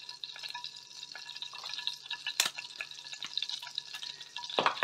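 Quiet crackling and sizzling of oil in a frying pan while cooking Indian chicken curry, with scattered sharp pops and spatters over a soft continuous hiss.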